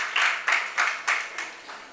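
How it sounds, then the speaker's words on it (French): Conference audience clapping in a handful of distinct bursts, roughly one every quarter second, then fading. The bursts are moderately loud and no talk is heard over them. "Sous vos applaudissements"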